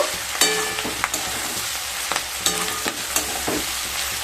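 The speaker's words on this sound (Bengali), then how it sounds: "আবারও খুব ভালো মতো মিশিয়ে নেব" Onion greens and vegetables with chilli powder are stirred in a hot frying pan, a steady oily sizzle broken by repeated scraping strokes of a spoon and clinks against the pan, close and without talk.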